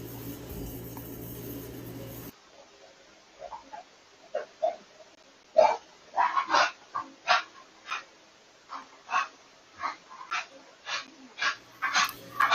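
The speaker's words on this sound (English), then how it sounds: "her dog is distressed by something" A distressed dog whimpers and gives short barks and yips in a quiet outdoor setting, about a dozen separate bursts in an uneven rhythm, fairly close and clear, with no talking over them.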